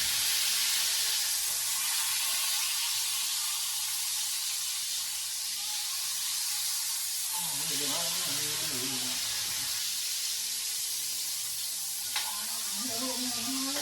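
Meat sears in a hot pan with a steady broad sizzle and hiss throughout, brief voices and background music surfacing partway through.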